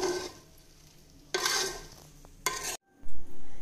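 Puffed flattened rice (aval pori) stirred with ghee in a pan gives a dry scraping, rustling sizzle, building into two louder bursts of stirring before a brief silence and a final scrape.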